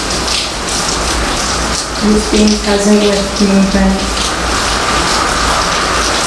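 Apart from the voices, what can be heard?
rain falling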